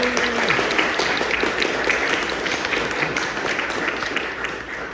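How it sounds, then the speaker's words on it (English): Audience applause at a Baltimore history evening, a steady wash of many hands clapping at moderate distance, sustained for the whole stretch with a brief voice near the start. "I think we owe them a round of applause."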